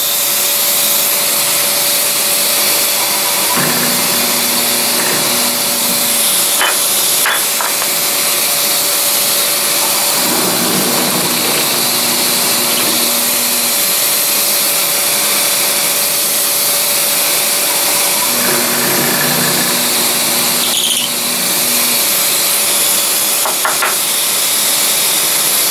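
A drill press bores holes in wood while a vacuum dust extractor roars steadily and loudly throughout, with the drilling showing as brief bursts beneath the continuous hiss.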